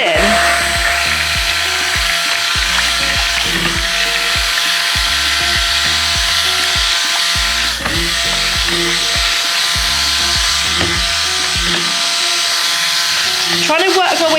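Soap batter being blended with added salts using a stick blender, a loud steady whirring drone with rhythmic knocking pulses as the blade moves, while a person talks over it.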